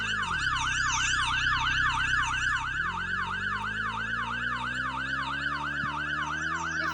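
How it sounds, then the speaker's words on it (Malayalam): A wailing emergency siren, switched on from a vehicle, cycles in rapid regular sweeps for the whole stretch, loud and close over a steady engine hum that shifts partway through. "ഓക്കെ ഗൈസ്, നമ്മൾ സൈറൺ ഇട്ടിട്ടുണ്ട്."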